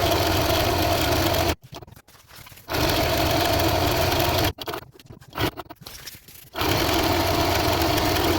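A sewing machine stitches backpack fabric in fast, continuous bursts of rapid patter, stopping twice for a second or two of near quiet before running again, close and loud.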